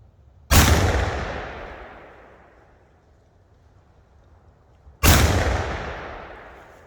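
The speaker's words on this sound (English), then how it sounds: "That's it. 10-bore ball gun." Two booming shots from a Greener 10-bore ball gun fired outdoors, each a loud, close blast with a long rolling decay, spaced about four and a half seconds apart.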